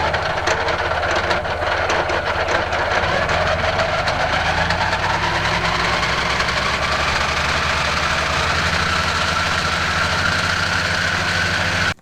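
A tractor idles steadily while running in a Kuhn GMD66 disc mower to warm its gearbox oil, giving a continuous, even low engine drone with a faint mechanical whine on top that holds constant and close throughout.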